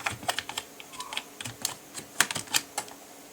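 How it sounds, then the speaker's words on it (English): A password is typed on a computer keyboard in a quick, irregular run of crisp, close key clicks, with a dozen or so taps in bursts and short gaps, with no voices. "then let's type in the password."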